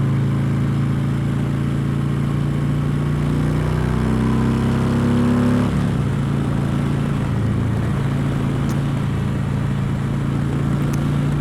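Harley Davidson Electra Glide motorcycle rolling slowly along a road, its steady low engine drone loud and continuous close by, with a brief shift in the engine note midway and no talking.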